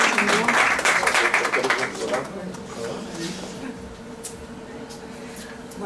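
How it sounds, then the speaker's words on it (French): A small audience claps at a French community association's evening gathering, the applause strongest at first and then thinning out, with voices talking over it as it fades. "Est-ce qu'on peut l'applaudir?"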